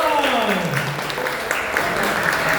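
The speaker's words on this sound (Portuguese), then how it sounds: "vamos aplaudir o irmão Antônio." A church congregation claps for a prize winner at a Christian education forum, a brief burst of applause with a voice speaking over it.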